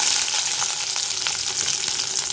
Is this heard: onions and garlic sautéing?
yes